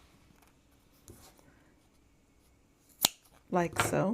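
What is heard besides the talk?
scissors cutting between doubled foam squares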